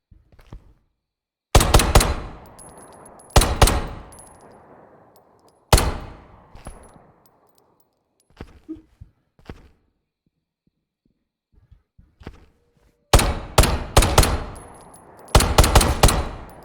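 Gunfire in the tactical shooter video game Operator, short loud bursts of automatic fire and a few single shots spread across the stretch, separated by quiet gaps with faint distant pops.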